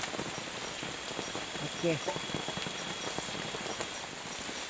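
Heavy rain falls steadily on a camp in the forest, a dense, even patter throughout, while a person speaks briefly in the middle.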